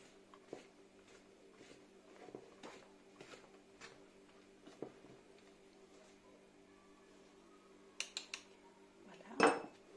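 Flour batter is mixed in a bowl with light, irregular clinks and taps of a utensil against the dish, fairly faint, ending in a louder clatter near the end.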